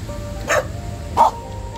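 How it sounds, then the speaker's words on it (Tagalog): A dog barks twice outdoors, two short, fairly loud barks about seven-tenths of a second apart over a low steady background noise. "Doggy!"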